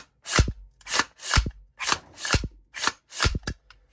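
Crisp metallic clicks from an AR9 rifle action being cycled to test a newly installed super safety, about seven evenly spaced sharp snaps, close and loud with no talk.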